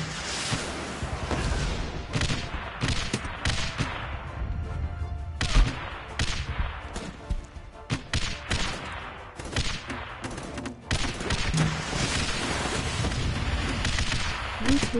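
Dense bursts of machine gun fire and explosions rattle almost without pause from a top-down video game called Guns Up, loud and layered, with occasional voices underneath.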